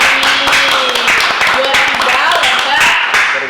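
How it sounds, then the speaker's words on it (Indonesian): Brisk clapping for economics students at a campus student-association gathering, many hands close and loud, running continuously beneath a speaking voice throughout. "tepuk tangan dulu Kak untuk kita ekonomi"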